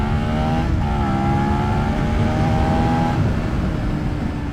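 A 2022 Suzuki SV650 motorcycle accelerating at full throttle in second gear near 5000 rpm on a road, giving a loud, continuous engine drone with steady tones under heavy wind rush.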